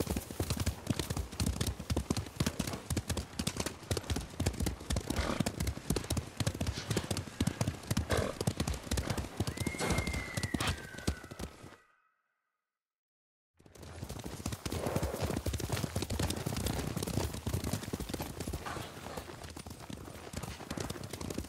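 Horses gallop steadily toward Fort Yatate in Ghost of Tsushima, a dense, rhythmic clip-clop of hooves that carries on loudly, breaks off briefly, then resumes at the same pace.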